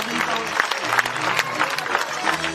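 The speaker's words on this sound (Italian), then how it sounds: "E anche per te ci saranno gli applausi di questo splendido pubblico sedente le tribune" Audience in the grandstands at the Sardegna Cavalli 2009 horse show in Oristano applauds steadily, a dense continuous clatter of many hands with crowd noise and voices mixed in.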